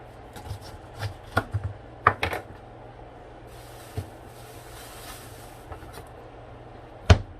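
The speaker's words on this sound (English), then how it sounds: "we're going to slice the top off. Slice the bottom off." A knife cuts the top and bottom off a ripe pineapple on a board, a few sharp chopping thuds and crunches spaced apart, close and fairly quiet, with a final firm chop.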